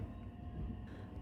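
Train standing or moving at Wakayama station, a low continuous rumble with a thin steady tone above it, moderately close and without talk.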